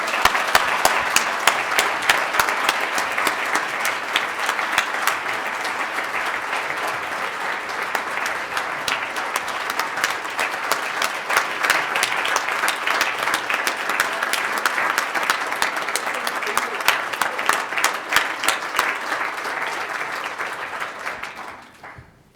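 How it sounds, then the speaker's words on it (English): A crowd claps steadily for about twenty seconds after a fight event, a loud continuous wash of many hands that holds level before tapering off abruptly at the end. "one more round of applause for these great gents"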